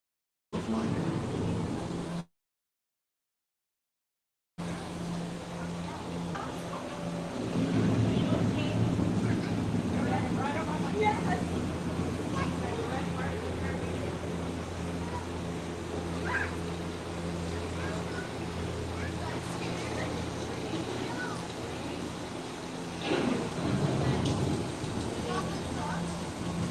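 A deep rumble of thunder rolls over steady rain-like noise, swelling and fading in long waves after a brief silence; a thunderstorm sound effect on an EPCOT ride at Disney World.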